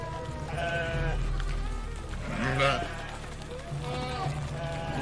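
Sheep bleat several times in quavering calls, some overlapping, heard at moderate distance while people talk over them, against a low steady background hum.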